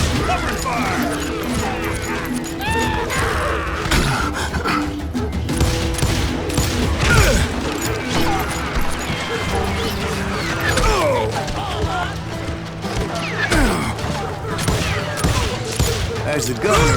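Dense Western-style gunfire rattles on through a Call of Juarez video game battle, with rapid overlapping shots, ricochets and clatter throughout, while voices shout over the shooting.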